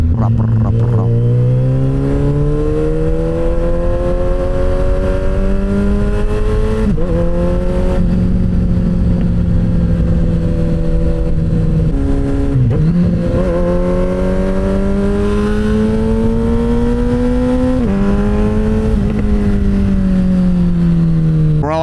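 A Suzuki Hayabusa motorcycle with a new aftermarket exhaust revs loud and close, its engine note rising and falling in long sustained pulls with brief dips between throttle blips, heard alone.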